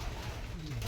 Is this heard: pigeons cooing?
yes